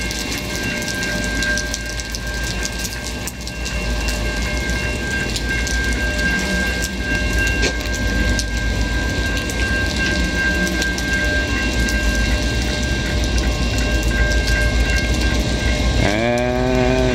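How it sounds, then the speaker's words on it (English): A Norfolk Southern freight train rolls past in pouring rain in Montreal, its continuous rumble and wheel clatter blending with the hiss of heavy rainfall, steady for the whole stretch and ending in a rising squeal. "it's rare I get the opportunity to film a train in heavy rain, let alone a freight"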